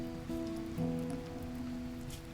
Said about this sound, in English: the rain is really chucking down now.